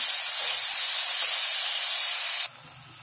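Ground chili hitting a hot pan of oil with a loud, steady sizzling hiss that cuts off abruptly near the end, leaving a quiet pan, while cooking aloo bread patties.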